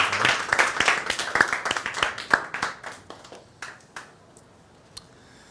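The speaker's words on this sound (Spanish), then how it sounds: "Un aplauso ahí." Classroom applause breaks out as students clap their hands in a quick, ragged burst that thins into a few scattered final claps.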